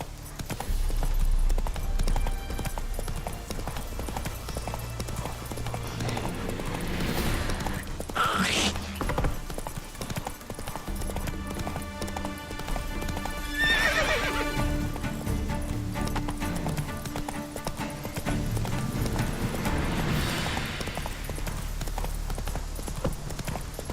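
Roach the horse galloping in The Witcher 3, a rapid rhythmic clip-clop of hooves on ground running nearly the whole time, with occasional whooshing swells and snorts in the game soundscape.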